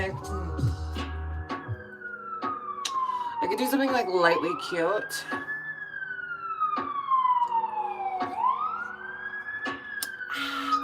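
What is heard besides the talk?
sirens in downtown Toronto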